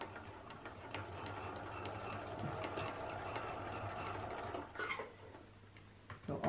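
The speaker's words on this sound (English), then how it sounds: "So backstitch a few stitches" A sewing machine backstitches a few stitches along a dart in suit-dress fabric, giving a steady, fast mechanical ticking hum at moderate level, with a short pause and shift in rhythm near the end.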